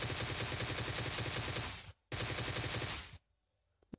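Automatic gunfire in the mobile game PUBG Mobile: two long, loud, rapid bursts separated by a brief gap, then near silence with a couple of faint clicks.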